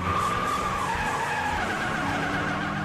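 A cartoon race car speeds off with a sustained screeching skid and engine roar, loud and continuous throughout with no talking.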